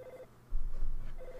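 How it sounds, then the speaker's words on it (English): A telephone rings in the Earthbound video game, giving two short, bright electronic rings separated by a pause, with a low thump in between. "My phone is ringing."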